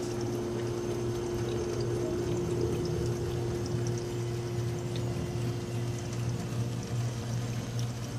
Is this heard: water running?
yes